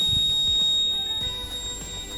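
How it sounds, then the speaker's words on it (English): A TVS Radeon motorcycle's side stand warning sounds a loud, continuous high-pitched electronic beep close by, holding steady throughout with idling engine rumble beneath. "TVS has got this really loud beep, this really loud noise that is supposed to let you know that the side stand is down"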